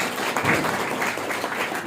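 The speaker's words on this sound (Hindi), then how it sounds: "ताली बजा दो।" Audience at a Brahma Kumaris spiritual class in Karnal breaks into brief applause, a short burst of dense clapping from many hands at moderate loudness.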